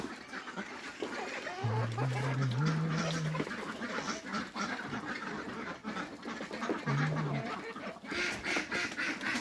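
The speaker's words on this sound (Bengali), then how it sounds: "তো আমার হাঁসগুলোকে আজকে এখন খানা দেব" A flock of ducks quacks loudly and repeatedly nearby before feeding, with overlapping calls, some splashing and a voice talking in the background.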